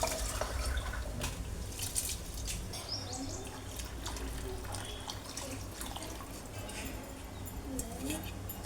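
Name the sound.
pouring rice-soaking water into a pot for tomato rice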